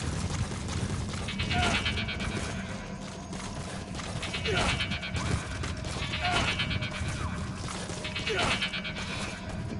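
Goats in the video game Metal Gear Solid 5 bleat in several separate bursts over a steady background rumble, with speech in the mix.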